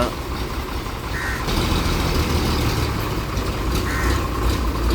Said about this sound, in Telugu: ఈ బస్సు సౌండే ఎక్కువ వస్తుంది.